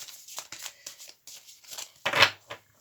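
Oracle mirror cards are shuffled by hand for a cross-shaped spread: close, papery riffles in short bursts, with a louder flurry near the end.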